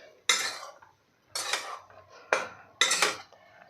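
Jaggery and coconut modak filling stirred in a pan, four sharp metallic scrapes and clanks of a spoon against the pan in an uneven rhythm, close and clear with no talk.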